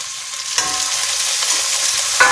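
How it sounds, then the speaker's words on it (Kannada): Chopped tomato goes into a pan of browned frying onions, giving a loud, steady sizzle with a few clinks and scrapes of stirring, close up and with no talking. "ಈರುಳ್ಳಿ ಇಷ್ಟು ಕೆಂಪಾದ ಮೇಲೆ ಇದಕ್ಕೆ ಚಿಕ್ಕದಾಗಿ ಹೆಚ್ಚಿಟ್ಕೊಂಡಿರೋ ಒಂದೇ ಒಂದು ಟೊಮೆಟೊನ ಹಾಕ್ಕೋತಾ ಇದ್ದೀನಿ"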